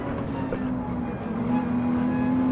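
A GT3 race car engine under throttle in Gran Turismo 7 at Fuji holds a steady, high engine whine that climbs slightly in pitch toward the end, with faint commentary voices beneath it.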